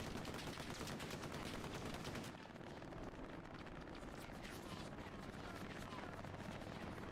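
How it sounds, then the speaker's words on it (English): Sustained gunfire in a competitive multiplayer shooter match, a dense, continuous rattle of automatic rounds that stays loud and unbroken throughout. "He's just dumping rounds into an already dead body."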